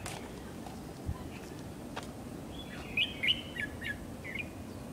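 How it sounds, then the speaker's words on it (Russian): An unseen bird sings outdoors in Hong Kong, giving a short burst of bright, high chirps and tweets partway through over a faint, steady background hiss. The calls are moderately close and clear, with no talking. "Это невидимая нам птица поет, птица счастья."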